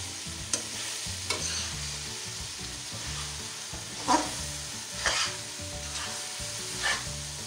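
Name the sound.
okra added to masala and stirred, sizzling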